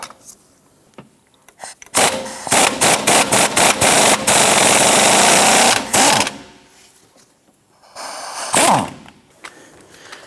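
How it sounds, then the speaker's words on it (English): An impact gun hammers on an engine mount bolt of a 1997-2006 Jeep Wrangler in loud rapid bursts, first a few short stuttering pulses, then a sustained rattling run, followed by a quieter second burst. "Then we're going to use our impact gun"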